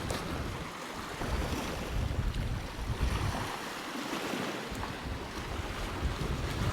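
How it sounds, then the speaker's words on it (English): A chilly easterly wind on the coast at Balcary, South West Scotland, roars steadily and buffets the microphone, with a wash of surf beneath it and no talking. "Easterly winds pick up a bit, it's quite chilly."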